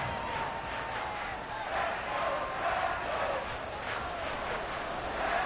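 Crowd noise swells continuously at a Broncos playoff football game in a packed stadium, a steady roar of cheering throughout that stays level, with an announcer's voice over it.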